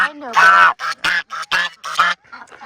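Domestic ducks quack in a rapid, loud, nasal series of about six close calls, with a softer call trailing off at the end.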